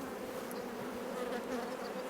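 Honeybees hum at an open hive being tended for requeening, a steady close drone of many wings with faint higher whines of single bees flying past.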